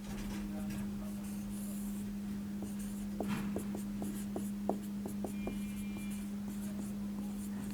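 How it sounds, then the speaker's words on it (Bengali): Writing on a board during a physics lecture on vectors: a series of light taps and short strokes between roughly three and six seconds, over a steady low hum, with no one talking. "তাহলে আমরা এখান থেকে লিখতে পারবো"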